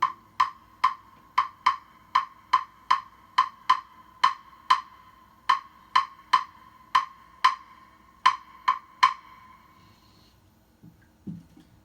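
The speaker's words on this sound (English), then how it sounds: "This is called clave." Sharp wooden clicks of a clave struck in a steady rhythmic pattern, about twenty bright, evenly spaced strikes ringing close and clear before falling silent, with a faint shuffle at the end.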